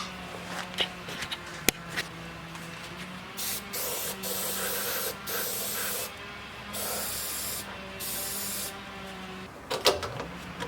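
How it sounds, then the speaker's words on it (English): Rust neutralizer sprayed from a can onto car body metal being prepared for welded patch panels on a Porsche 914, heard as several hissing spray bursts of varying length, close by with faint handling sounds between them. "I'm also going to spray it with some of this rust neutralizer stuff"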